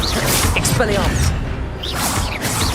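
Spell effects from the Hogwarts Legacy video game, with the Expelliarmus disarming charm cast amid a rapid series of whooshing, crackling magical bursts and impacts that keep up a continuous loud clamor.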